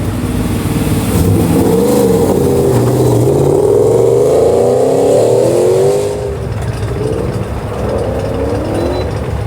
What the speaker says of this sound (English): Tanner Yost on the line of that teal-colored 94 Camaro